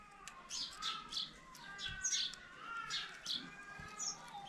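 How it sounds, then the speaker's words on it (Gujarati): Sparrows chirp outdoors in a village, a steady run of quick high tweets from several birds, fairly near, with no talk. "જો ચકલીઓ કેવી ચીચી બોલે છે"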